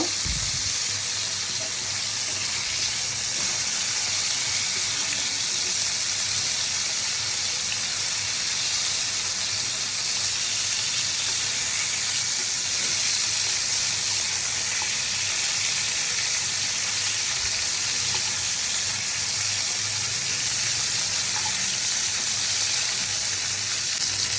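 Pieces of rui fish frying in hot oil make a continuous, even sizzling hiss that holds at a steady level for the whole stretch, with no talking.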